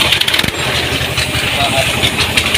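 A tractor engine is started and settles into a rough, loud, close-up chugging idle, with rapid knocking pulses throughout.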